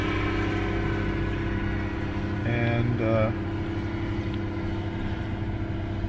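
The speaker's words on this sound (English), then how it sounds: "I've got my tractor, the deer tractor is behind me" A John Deere tractor engine idles steadily at a low, constant rumble close by in a field, under a voice speaking over it.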